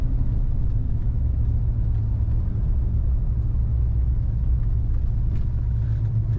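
1968 Dodge Charger two-door hardtop cruising down the road, heard from inside as a steady low engine drone and road rumble at an even, moderate speed.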